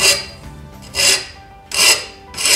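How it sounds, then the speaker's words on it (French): A metal hand file rasps along the edge of a cut ceramic tile in four loud, close strokes, each a harsh scraping burst separated by short pauses. "Prenez une lime à métaux"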